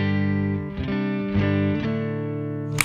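Clean tone from an electric Telecaster played through a Greer Soma 63 vintage preamp pedal: sustained chords ringing on, with a few re-struck changes and a sharp pick click at the end, alone and unaccompanied.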